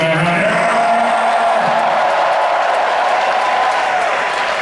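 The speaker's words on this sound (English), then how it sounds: "Ladies and gentlemen, round of applause for this young man right here." An arena crowd at a WWE live show at The O2 in London applauds loudly and continuously, a dense wash of clapping with scattered cheers filling the whole stretch.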